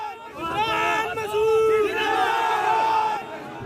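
A crowd chants and shouts in unison while carrying Imran Masood on their shoulders in a procession, with loud, sustained rhythmic cries rising over a background of babble.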